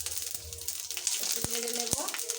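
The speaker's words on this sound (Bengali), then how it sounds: "দিয়ে দিচ্ছি 2টো তেজপাতা ফোড়ন, আর দিচ্ছি 5 ফোড়ন, 2টো শুকনো লঙ্কা।" Bay leaves, panch phoron and dried chillies frying in hot oil, a soft crackling sizzle with a few sharp pops, under a woman's speech.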